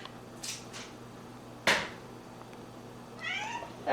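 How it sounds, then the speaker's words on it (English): Pet cats Artemis and Athena meow in a home kitchen, a few short separate calls spread over several seconds, with a sharp knock partway through and a longer wavering meow near the end. "there are cats in the background being silly"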